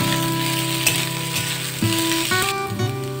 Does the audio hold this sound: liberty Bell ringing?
no